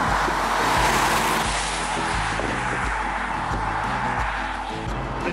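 A VW Golf Cabriolet with a detuned TSI engine drives along, its steady engine drone and road noise loud and continuous throughout, with gear-like rhythmic low tones beneath a broad wind hiss.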